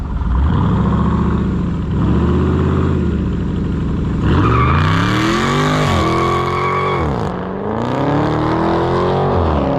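A 2020 Dodge Challenger Scat Pack Widebody roars through a hard launch, the V8 revving and wavering as the tires spin, loud and close with repeated surges in pitch.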